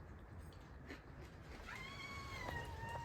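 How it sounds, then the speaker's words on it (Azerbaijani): A cat meows a few times at close range, drawn-out rising calls over a low background murmur, with no talk. "Bu pişik də ki möhtəşəm pişikdir"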